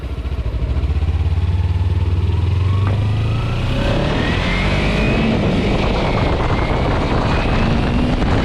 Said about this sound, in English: the engine comes to life only after the 7000 RPM